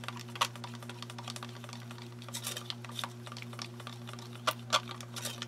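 Silicone oil is stirred into pouring paint in a cup, producing faint, irregular little clicks and taps against a low steady background hum.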